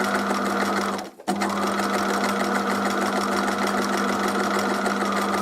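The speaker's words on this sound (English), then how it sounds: "So I'm going to try and break that up into smaller bits now by stitching on it." A sewing machine stitching fabric runs with a loud, steady mechanical whir, pausing briefly near the start and then continuing without a break.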